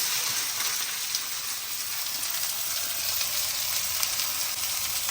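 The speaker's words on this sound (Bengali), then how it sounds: "সরু সরু করে কাটা পেঁয়াজ এবার ভাজা হচ্ছে" Thinly sliced onions frying in oil for mutton biryani, a dense, even, rain-like sizzle holding steady throughout, close and fairly loud with no talking.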